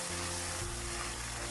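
Thickened sauce with chopped scallions bubbles and sizzles in a pan as it is stirred, a dense continuous frying hiss with a low steady hum underneath.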